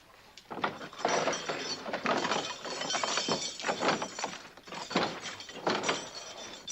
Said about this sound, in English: Gold sovereigns clinking together.